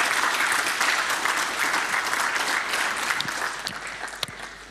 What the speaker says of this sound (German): ich bitte nochmal um eine Runde Applaus